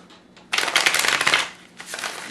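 A heavy Minchiate tarot deck being shuffled, a dense papery riffle of cards fluttering loudly for about a second, then a softer second burst of card flicks, close and alone.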